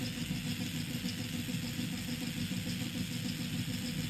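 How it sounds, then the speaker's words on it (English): A small DC motor driven by an L298 driver and Arduino spins anti-clockwise, giving a steady, continuous whir with a low hum that holds an even level throughout, close by and with no voices. "now motor is rotating in the anti-clockwise direction"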